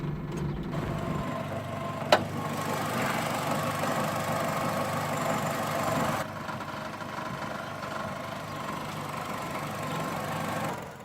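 A 2000 Renault Twingo with a 1.15-liter single overhead cam, 8-valve, naturally aspirated inline-4 engine idling steadily, heard up close with an even hum and one sharp click early on.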